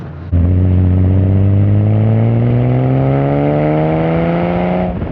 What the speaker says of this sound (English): is that exhaust standard? Because it sounds far louder than any other similar era Porsche